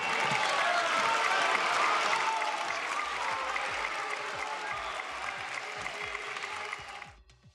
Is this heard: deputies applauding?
yes